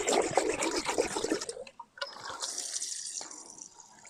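A garden hose sprays water through the rusty, badly neglected radiator of a 1971 Toyota Celica TA22 barn find, a loud hissing gush at first that drops to a softer trickle and splash after a brief pause.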